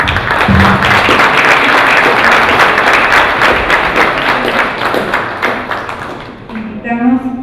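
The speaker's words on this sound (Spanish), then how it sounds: "Y con un caluroso aplauso." Warm audience applause at a university forum, as the panel of speakers is thanked, steady dense clapping from a room full of people, loud and sustained before tapering off near the end.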